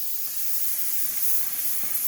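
Spray gun laying clear coat onto a 1980 Mercedes 300SD door during scratch repair, a steady, fairly close hiss of atomized paint running continuously with no talk over it.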